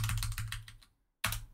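Rapid clicking keystrokes on a computer keyboard, a close burst of typing that trails off into a short silence before another quick flurry of keys starts, with no voices.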